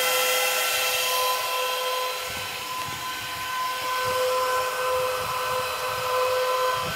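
A Canaan Avalon 1047 Bitcoin miner running on a shelf, its cooling fans giving off a loud, steady whooshing roar with fixed whining tones that hold unchanged throughout.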